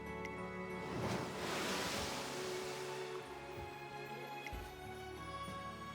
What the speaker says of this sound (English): the sound of the waves is so soothing